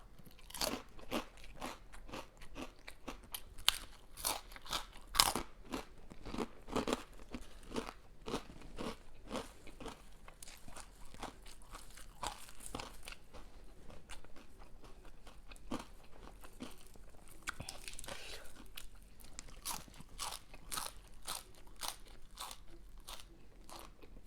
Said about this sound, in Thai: แคบหมูกรอบ